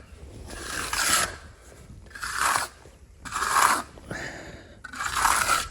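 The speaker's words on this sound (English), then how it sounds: "I'll scrape up some more, fill it in like that, and then trowel that off." A trowel scrapes and smooths wet concrete on a pole barn floor with a drain, in four rasping, gritty strokes of about a second each, close and fairly loud, with quieter gaps between them.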